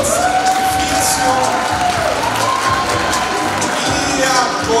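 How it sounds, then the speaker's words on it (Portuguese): An audience at a women's award ceremony applauds and cheers steadily throughout, a dense roar of clapping mixed with whoops and a few high whistles, with scattered voices in the crowd. "Chega um aplauso para as garotas por todo esse sacrifício"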